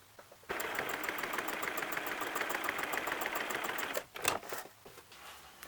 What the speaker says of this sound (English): So sewing up the fabrics to make one big strip, I am doing it on a 45-degree angle.